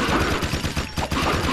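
Rapid gunfire from a weapon in the Jak II video game, dense back-to-back shots crackling loudly and continuously with no gaps, close and alone.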